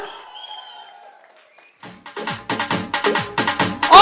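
A standing audience at a business network gathering bursts into loud, rhythmic applause after a quiet stretch, the clapping coming in strong pulsing waves that swell toward the end.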